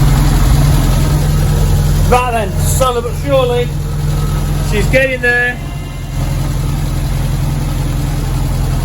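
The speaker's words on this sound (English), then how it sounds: "We've got it idling lovely now" A motorcycle engine idles steadily with a deep, even low rumble after a carburettor and exhaust upgrade, running close and constant while someone talks briefly over it.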